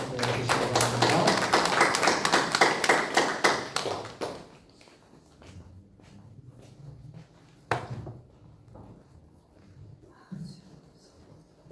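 A church congregation at a Korean praise service claps to welcome a missionary to the front, loud and rhythmic for about four seconds before stopping abruptly, followed by faint thumps and footsteps.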